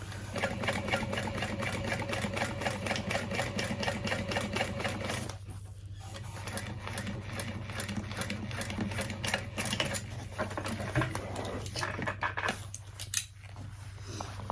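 A sewing machine drives stitches through bulky handbag layers in a loud, continuous mechanical chatter close by, briefly pausing and straining before it starts running again.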